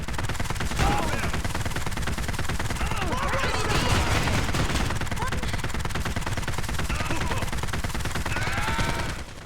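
Rapid submachine gun fire from the top-down shooter video game Postal Redux, a dense, continuous stream of loud automatic bursts that runs unbroken from start to finish.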